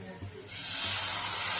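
Water poured into a pan of hot spiced oil for a Bengali fish curry, a soft stir followed by a rising, steady hiss of sizzling that fills the space up close.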